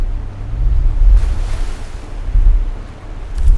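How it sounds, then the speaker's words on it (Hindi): Large waterfall in a jungle, its rushing water a steady broadband roar with low rumble and wind-like surges, loud and continuous with no talking. "ये बहुत बड़ा झरना है दोस्तों, जहाँ पर इस टाइम मैं लिटरली खड़ा हूँ।"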